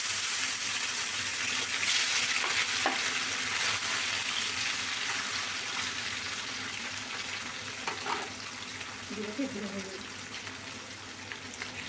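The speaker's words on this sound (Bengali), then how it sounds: "তেলটা গরম হয়ে গেলে মাছগুলো আমি ভেজে নেব।" Small mourola fish frying in hot mustard oil in a kadai, a steady soft sizzle throughout with a few light clinks, close and moderately quiet.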